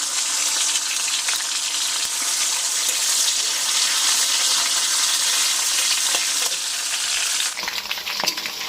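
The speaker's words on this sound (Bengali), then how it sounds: "তো এখন এই মাংসগুলো আমরা এই তেলে একটু ফ্রাই করে নেব।" Marinated chicken, for yogurt chicken kasha, fries in hot oil in a home kitchen with a loud, steady sizzle and crackle. A brief stir or clatter near the end briefly changes the texture.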